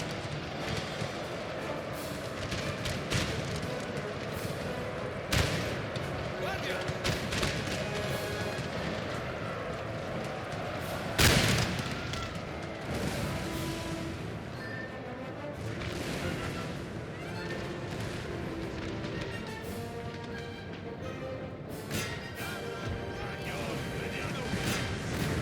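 Cannon and musket fire in a Napoleonic-era Total War battle with Spanish forces: a dense, continuous roar of massed fighting, punctuated by a few loud, sharp booms and cracks, with voices mixed into the din throughout.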